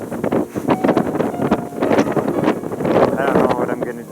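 Strong wind at the South Pole buffeting the microphone in loud, gusty low rumbling and flapping, continuous and close, with a person talking through it.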